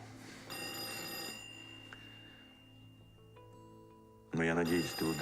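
A telephone bell rings with a steady metallic trill for over a second, then fades beneath quieter background sounds before a loud burst closes the clip.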